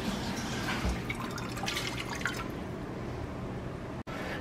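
Water for oatmeal is poured into a pot, making a steady splashing, trickling stream at close range. The pour tapers off into quieter dripping.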